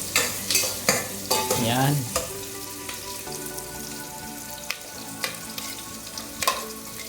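Onion and garlic frying in a pan, with a steady crackling sizzle and repeated scraping stirs, loudest in the first two seconds, and a single word spoken briefly over it.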